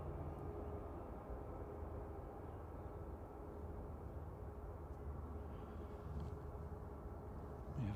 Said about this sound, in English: Is that a plane? Yes, it is.